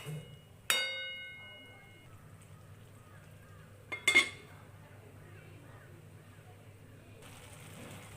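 Metal lid clanking onto a cooking pot of bottle gourd, two sharp ringing clinks several seconds apart in a quiet kitchen, followed by a faint hiss of cooking.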